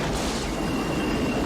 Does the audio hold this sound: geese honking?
no